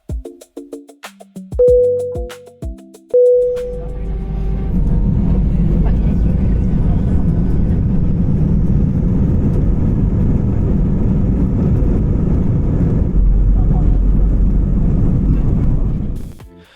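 Inside the cabin of a Scoot Airbus A320 taxiing for takeoff, a few cabin chimes ring out, then a steady, muffled engine drone fills the rest of the clip at an even level.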